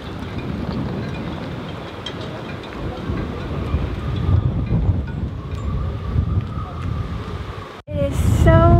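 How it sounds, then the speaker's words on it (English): Strong wind buffets the microphone on a boat, a steady loud rumbling roar with gusts that briefly cut out near the end before returning. "It is so windy."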